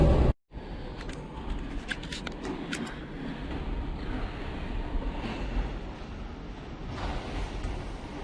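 A passenger train rolls along with a steady low rumble and rushing noise heard from inside the carriage, moderately loud and continuous after a brief cut at the start.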